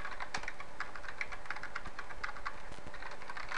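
Quick, light keystrokes on a computer keyboard while entering a network switch configuration command, a steady patter of soft clicks close by with no talking.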